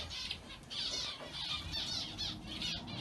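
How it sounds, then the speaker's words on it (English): A canary gives a rapid series of sharp, high squawks close by, broken by brief pauses. "there's the canary out already."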